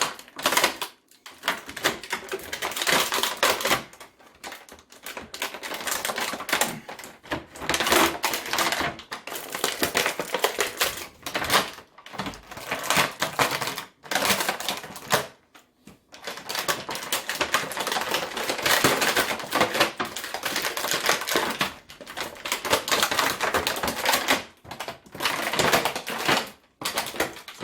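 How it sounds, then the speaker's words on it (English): Packaging of a 12-inch McFarlane Toys Commando Spawn figure being torn and destroyed: loud, close crunching and crackling bursts of plastic and cardboard, separated by short pauses, with no talking. "you might have to destroy the packaging for this one"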